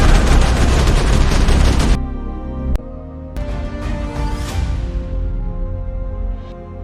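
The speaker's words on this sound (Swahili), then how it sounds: "Milango ya kioo cha kibenki ilipasuka vipande vipande kwa kishindo kikuu baada ya Zungu kupiga risasi 3 hewani." Gunfire sound effects for a bank robbery scene in a Swahili audio drama: a dense, loud burst of rapid shots, then sharp single reports and shattering glass ringing out and fading.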